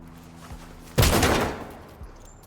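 A locked door smashed in by a battering ram during a SWAT hostage rescue in Ready Or Not, one heavy, loud crashing impact followed by a short rattling decay, with a faint thud before and after.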